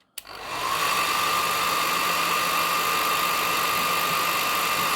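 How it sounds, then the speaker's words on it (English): A handheld hairdryer clicks on and runs loud and steady with a whining motor tone, blowing warm air over a UV resin miniature print. "I think we need some warmth of life here with my trusty hairdryer"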